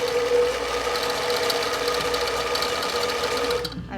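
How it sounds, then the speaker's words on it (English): An industrial zigzag sewing machine runs fast in a steady, loud mechanical drone with a rapid stitching rattle, then cuts off abruptly near the end. "Your home machine won't sew this fast. I love my industrial zigzag here."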